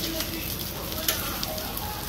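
Goat brain masala frying in a pan, Agri Koli style, giving a steady crackling sizzle with scattered pops throughout, close and continuous.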